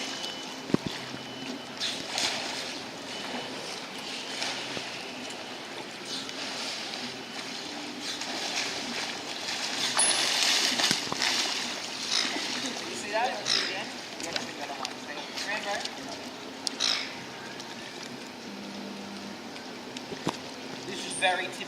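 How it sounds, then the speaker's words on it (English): A fur seal at SeaWorld swims and spirals around in a pool, its splashes and water churn running steadily with bursts of sloshing, under an ambient outdoor wash with occasional nearby voices. "He's just swimming and spiraling around in the water."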